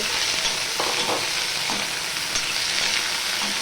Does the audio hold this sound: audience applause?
no